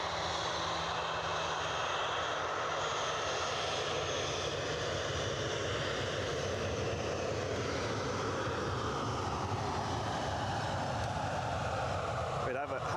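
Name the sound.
planes taxiing and taking off at Edinburgh Airport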